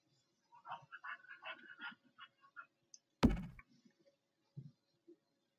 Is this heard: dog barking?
yes